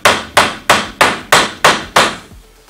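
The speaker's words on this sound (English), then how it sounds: "and I'm gonna hammer it" Seven sharp hammer blows on wood at a steady, even pace, each ringing briefly before the next, then quiet, from hammering a wooden jig while framing walls.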